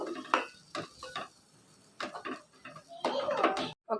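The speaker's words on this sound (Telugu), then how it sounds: "సిమ్లో పెట్టుకొని కొంచెం అలా కలుపుతూ ఉండండి." A spoon stirs ground dal mixture in a pan over a low flame, giving irregular scraping and clinking strokes in short bursts separated by quiet gaps, close and moderately loud.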